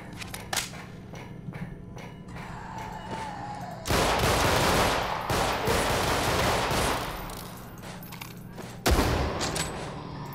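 Gunfire in the horror shooter Underhell, with scattered single shots early on, then a long loud sustained burst of rapid fire, a lull, and another heavy volley near the end, all without talk.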